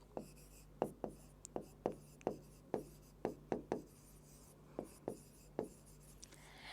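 A writing implement strikes and strokes across a board during a lesson on the digestive system, making about a dozen sharp, evenly spaced taps and scratches close by in a quiet room.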